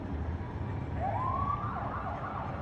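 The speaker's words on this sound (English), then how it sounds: "You can hear the sirens behind them." Emergency vehicle sirens wail at a distance behind a procession of parade buses on empty city streets, a single rising tone sweeping up and holding over steady traffic rumble.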